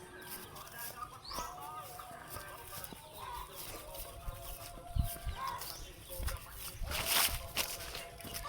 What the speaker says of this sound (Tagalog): Pretty mother chickens!